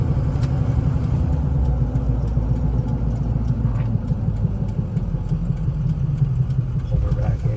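Budget diesel mud truck engine running close by with a steady, rough knocking beat under the idle, loud and continuous throughout.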